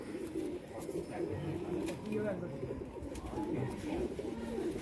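Pigeons coo softly and steadily in the background at a pigeon-keeping gathering in Punjab, with low throaty murmurs under quiet ambient noise.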